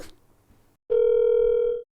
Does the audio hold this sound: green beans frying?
no